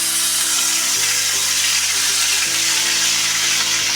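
Ginger-garlic paste and spices hit hot oil in a pan for dai potol, a continuous broad sizzle and crackle holding steady and fairly loud throughout, with a low hum beneath and no talking.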